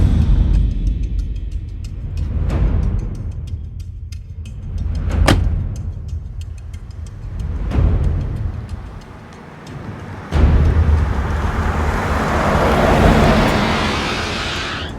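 A car drives along a road, its engine rumbling in rising and falling swells over fifteen seconds, with a sharp knock or door-like thud partway through and louder road noise toward the end.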